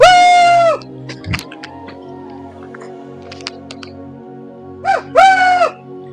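Bird calls ring out on a mountain trek, a loud rising-falling call at the start and another pair near the end, with quiet outdoor ambience between.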